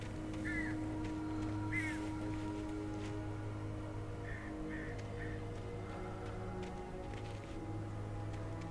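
Crows cawing in the Alan Wake video game, a few short harsh calls early and a run of three later, fairly faint over a steady low ambient drone.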